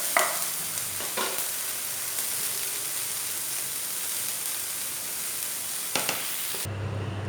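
Vegetables stir-fried in a pan give a steady, close hiss of sizzling, with a few sharp scraping stirs at the start and near the end before it cuts off.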